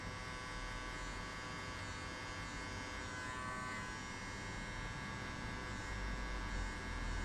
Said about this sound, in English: We close the clipper halfway and we hit only on this line.